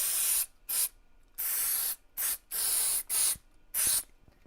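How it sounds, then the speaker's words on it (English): Alcohol is sprayed onto a laptop motherboard during repair work, a series of about seven sharp, close aerosol hisses in uneven bursts with short pauses between them and no talking. "I just sprayed this alcohol on here"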